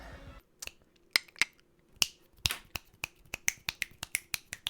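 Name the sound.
finger snapping in the video game Enter the Gungeon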